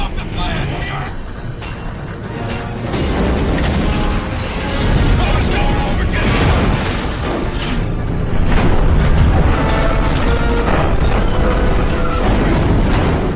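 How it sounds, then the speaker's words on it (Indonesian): A bazooka shot slams into a large tanker ship in a film action scene, setting off a huge explosion: dense booming and crashing blasts fill the clip, loud and sustained, with dialogue-like voices buried beneath the roar. "Pike tiba-tiba menembakkan bazooka ke arah tanker, menyebabkan ledakan besar yang menghancurkan struktur kapal"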